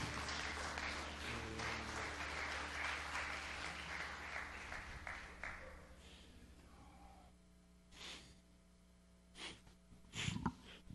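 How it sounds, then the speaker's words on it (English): A congregation claps hands to the Lord during a church service. Dense clapping fills the first half, then thins and fades out, leaving quiet room tone with a few breaths and sniffs. "Clap your hands to the Lord."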